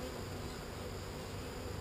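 A steady, close buzz of a drone honeybee at a hive hums throughout, low and droning, with no voices.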